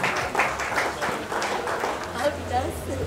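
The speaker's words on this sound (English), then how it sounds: "Another round of applause." Audience applause following a Proteus kit presentation, a dense steady wash of many hands clapping at moderate level, with a voice briefly heard over it.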